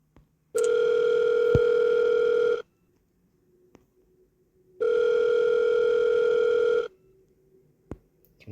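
A telephone dial tone in a horror video game plays as two steady, loud tone bursts of about two seconds each, separated by a pause with a faint low hum, followed by a brief click near the end.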